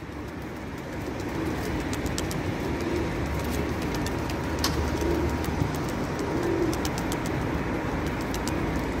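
Pigeon cooing and wing flapping under a steady broadband rumble, with faint sharp flicks scattered through the clip.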